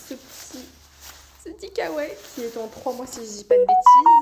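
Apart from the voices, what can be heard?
doorbell ringing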